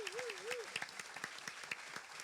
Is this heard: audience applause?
yes